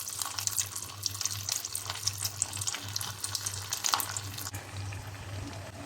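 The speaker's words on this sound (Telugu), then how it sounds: "చూడండి ఆయిల్ బాగా హీట్ ఎక్కింది. ఇప్పుడు మెల్లిగా ఇది ఒక్కొక్కటి దీంట్లో వేసి మనము ఫ్రై చేసుకుందాము." Mutton shami kebabs deep frying in hot oil give a continuous bubbling sizzle with crackling bursts, steady and close throughout over a low hum.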